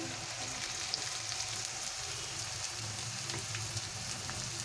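Chicken fries in a pan for restaurant-style gravy chicken, a dense, even sizzle like light rain that holds steady throughout with faint stirring and no voice.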